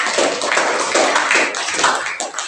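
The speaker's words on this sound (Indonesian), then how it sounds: "Tepuk tangan untuk kelompok 5." Students in a classroom applaud a presenting group with a dense, continuous patter of many hands clapping close by for a couple of seconds.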